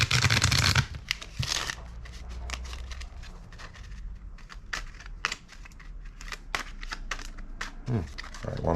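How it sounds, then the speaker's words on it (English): Cards being shuffled up close in several quick riffling bursts, with crisp flicking and a soft clatter as the deck settles between shuffles. "let me give this a few shuffles"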